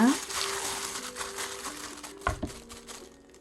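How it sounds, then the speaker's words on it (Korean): Meat being squeezed and kneaded by hand in a seasoning marinade for rice burgers, making soft, wet, crinkly squelching that continues under a speaking voice, with one brief thump partway through. "이렇게 부룩 바락바락 이렇게 잘 주물러 가지고 재워둡니다"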